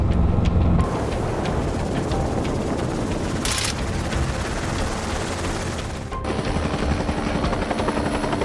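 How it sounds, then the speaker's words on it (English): A helicopter hovers low during a boar hunt, its loud, steady rotor roar and engine whine filling the scene continuously with a few brief sharp bursts on top. "lowered the helicopter to reach the boars"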